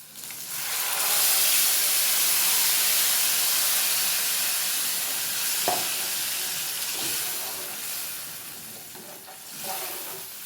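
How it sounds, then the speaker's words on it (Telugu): Garlic sizzles and fries in a hot pan for tamarind chutney, a steady close hiss that swells early and fades slightly, with a few soft stirring knocks near the end. "ఈ తెల్లగడ్డలు కొంచెం ఫ్రై కావాలి."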